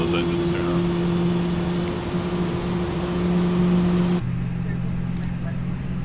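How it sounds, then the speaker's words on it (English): Airbus A320neo (A32NX) airliner engines spooling up in a flight simulator, a steady hum with tonal drones that shifts abruptly partway through, continuous and fairly loud, with a voice talking over it. "When those engines turn on."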